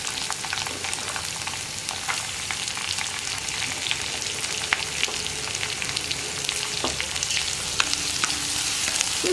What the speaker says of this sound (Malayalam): ഈ സവോളയൊക്കെ നന്നായിട്ട് വഴന്ന് വരുന്നത് വരെ നമ്മളൊന്ന് ഇളക്കിയെടുക്കണം